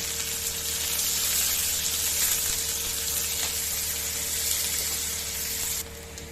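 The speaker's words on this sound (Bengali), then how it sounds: "এর মধ্যে দিয়ে দেবো আমি পেঁয়াজ কুচি।" Chopped onion frying in a pan while cooking a Bengali dal with banana stem, a steady loud sizzle with bright hissing crackle that holds evenly, then drops abruptly near the end.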